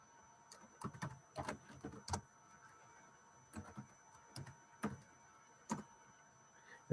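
Typing on a computer keyboard, with short clusters of crisp key clicks separated by quiet pauses, close and fairly faint.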